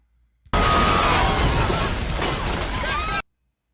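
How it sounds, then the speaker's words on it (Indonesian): A bomb vest explodes in a sudden loud blast that roars for nearly three seconds, full of crackling debris, then cuts off abruptly. "bom itu pun meledak"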